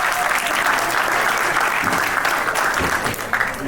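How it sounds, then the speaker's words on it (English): A crowd at a stand-up comedy show at a Pesach resort in Mexico gives steady, loud, dense applause that holds throughout, with a few louder individual claps near the end. "Give Shanon one more round of applause, everybody"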